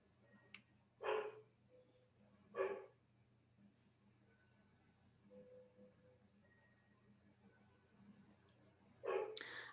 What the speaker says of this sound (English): Our new dog is very vocal